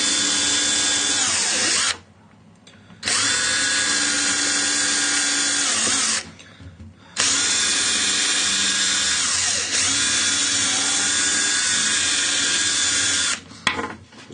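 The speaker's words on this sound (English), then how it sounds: "Just drilled a couple of holes in there so I can get the jigsaw blade in" A power drill bores holes into a wooden sash window, a loud, continuous high whine in three long bursts separated by short pauses, with no talk.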